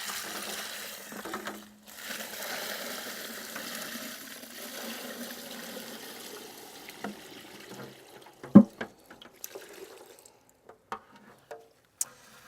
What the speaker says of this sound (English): And then we're going to strain it because we really don't want the leaves in what we're going to do.